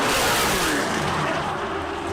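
A BMW F22 race car blasts along the Thruxton circuit, a loud broadband roar of engine and wind that fades slightly over two seconds.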